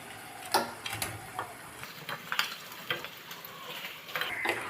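Bhetki fish curry being stirred in a pan, with irregular scraping and clinking of a spoon against the pan over a faint simmering sizzle, close by and fairly quiet.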